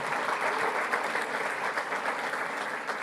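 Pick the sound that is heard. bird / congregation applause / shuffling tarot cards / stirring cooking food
congregation applause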